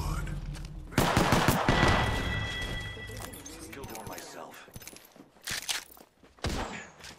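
P2020 pistol shots crack in a video game firefight, a quick cluster of close, sharp reports early on and then scattered later pops, mixed with clattering impacts and people talking over the action.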